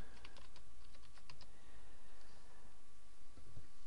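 Keys clatter in quick, uneven bursts as a username and password are typed on a computer keyboard, fairly close and clear over a faint steady hum, with no voices.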